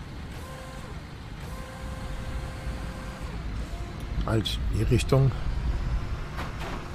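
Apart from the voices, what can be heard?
truck in a construction simulator video game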